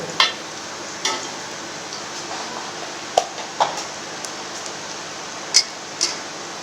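Browned onions frying in a pan while being stirred for a kaddu gosht curry: a soft, steady sizzle broken by scattered sharp clicks and taps of the spoon against the pan.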